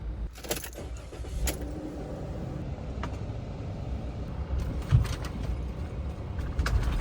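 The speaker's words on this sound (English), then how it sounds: "Gotta love a good speed bump when your entire house is in your vehicle." Camper van rolling over a speed bump, steady road and engine rumble with a couple of rattling jolts and loose items jangling inside the vehicle, close and continuous.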